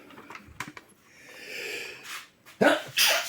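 A single sharp sneeze bursts out near the end after soft breathing and small clicks, close and fairly loud, followed by a breathy exhale.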